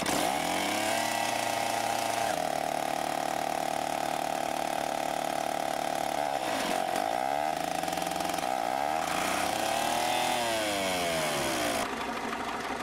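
A DT75 crawler tractor with a front blade starts up, its engine catching with a harsh, buzzing chainsaw-like rasp, then settling into a loud, steady idle close by that rises and dips in pitch.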